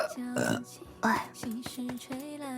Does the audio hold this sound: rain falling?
no